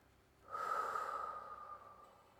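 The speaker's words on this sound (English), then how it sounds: "Big deep breath." A single big, deep breath, drawn in slowly and audibly through the nose and lasting over a second before it fades. It sounds close and quiet against a hushed background.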